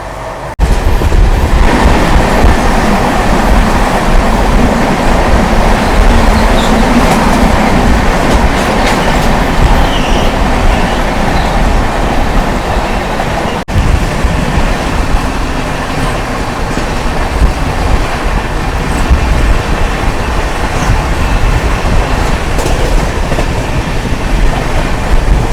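The 18615 Kriya Yoga Express runs from Howrah toward Ranchi, heard from inside a 3-tier AC economy coach as a loud, continuous rumble with rhythmic clickety-clack of wheels over rail joints, unbroken for the whole stretch.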